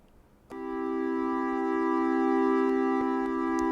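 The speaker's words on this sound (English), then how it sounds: "those pops, I would say, are less like pleasing to the ear and more like a glitch" A steady Arturia MiniFreak synthesizer tone with bright stacked harmonics starts abruptly after a brief pause, with faint glitchy clicking pops recurring in the sustained note.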